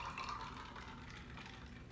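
Bloody Mary cocktail poured into a glass over ice, a steady close liquid trickle and splash running throughout, fairly quiet and without talk.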